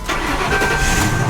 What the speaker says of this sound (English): Let's go ahead and crank this Lincoln up.